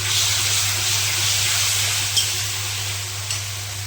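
Ginger garlic paste fries in a pan with a steady, close broadband sizzle and a couple of brief spits, no talking over it.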